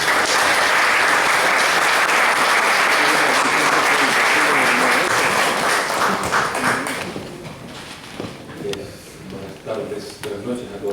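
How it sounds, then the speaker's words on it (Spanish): Loud, dense applause from an audience at a book launch event fills the first seven seconds, then thins out into scattered claps and murmuring voices as the room settles. "alguien pide un fuerte aplauso"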